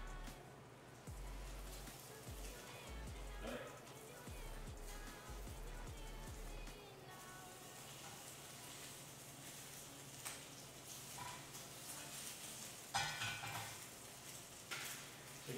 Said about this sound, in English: We got a nice hard sear on those crab cakes.